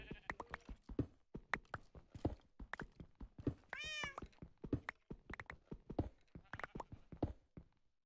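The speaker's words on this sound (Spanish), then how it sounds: "¿Por qué tengo como miedo por escuchar un gato?" A single brief cat meow sounds in a modded video game, heard under someone talking continuously over scattered game noises.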